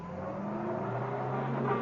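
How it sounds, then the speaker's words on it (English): A car pulling away on a radio drama, a steady engine drone that grows slightly louder over about two seconds, heard alone. "It was at that moment that Mrs. Peel heard the car taking off."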